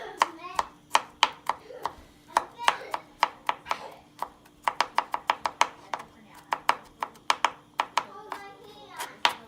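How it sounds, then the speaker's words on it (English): Garlic being roughly chopped with a knife on a cutting board for a beef medallion and mushroom sauce dish: a rapid, uneven run of sharp, close chopping knocks, some in quick bursts and some spaced apart. "So we're going to roughly chop."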